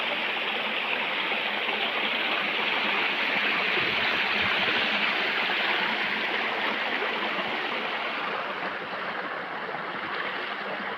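Water rushes steadily over the upper part of Vastapur waterfall, a dense, continuous roar that stays close and loud throughout with no voices.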